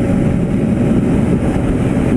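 Zontes R310 motorcycle engine pulling steadily in sixth gear at highway speed, a loud continuous drone with wind rush and no talk.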